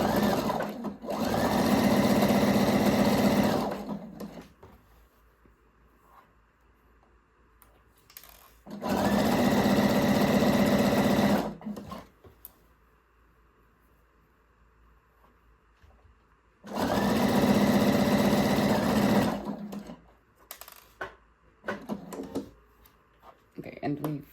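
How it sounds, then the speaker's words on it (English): A sewing machine runs a stretch stitch along a seam in mesh fabric for pole shorts, humming in three long steady bursts separated by pauses with light handling noises and brief talk. "we're going to start sewing"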